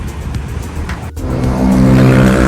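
A 2018 Honda City 1.5 V runs in front of a Honda showroom, its engine giving a loud, steady, close hum that swells slightly partway through.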